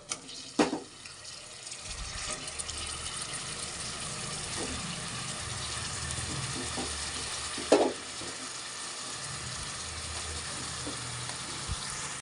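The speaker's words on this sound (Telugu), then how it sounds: "వేగుతున్నాయి కదా." Brinjal pieces frying in a pan, a soft continuous sizzle with a few scattered clinks and scrapes of stirring, fairly quiet throughout.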